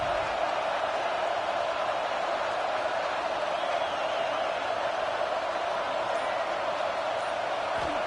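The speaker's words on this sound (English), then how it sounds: "Big third down as the crowd gets behind this defense." Stadium crowd roaring in a college football video game, a dense, steady wall of cheering noise that holds at the same level throughout, with a commentator's voice faintly mixed in.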